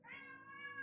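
A pet cat named Dante meows once over its treats, a short, clear, fairly quiet tonal call with no talk over it.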